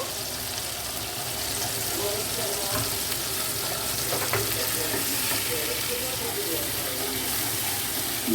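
Sour yogurt goes into a sizzling pan of egg chicken bharta, giving a steady close-up frying hiss with brief stirring and scraping.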